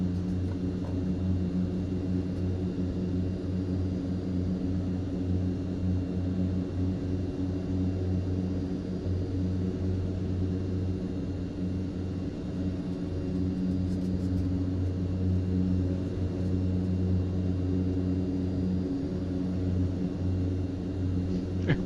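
Twin-engine aircraft taxiing on the tarmac in Microsoft Flight Simulator 2024, a steady low engine drone and rumble that holds at an even level throughout with no talk.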